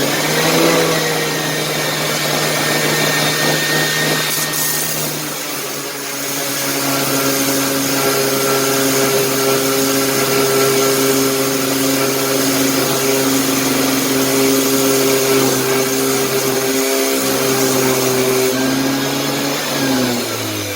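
Power tool planing down a part of a Peugeot 103 moped engine, a loud continuous motor whine with steady grinding tones that hold for about twenty seconds with slight pitch shifts.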